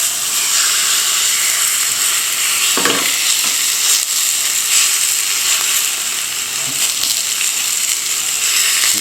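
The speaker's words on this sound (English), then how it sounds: "Got a decent sized rump steak here" A thick rump steak sizzles steadily in a 10-inch Yeti cast iron skillet, a loud, continuous hiss and crackle with a few brief clatters from handling.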